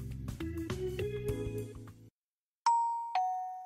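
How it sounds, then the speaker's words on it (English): A two-tone ding-dong doorbell chime in a visual novel video game, rung twice, loud and clear after a stretch of soft music that cuts off into brief silence. "I'm reading a book after a good soak in the bath when the doorbell rings."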